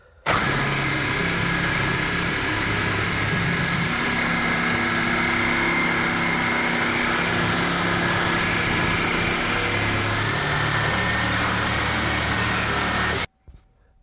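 Reciprocating saw fitted with a Craftsman blade cutting metal held in heavy C-clamps: a loud, steady buzzing drone lasting about thirteen seconds, then an abrupt stop.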